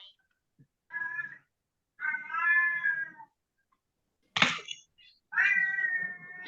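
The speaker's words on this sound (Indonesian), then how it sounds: "Ada kucing." A cat meows repeatedly at close range, giving four drawn-out cries separated by silent gaps, with one short noisy bump between the later calls.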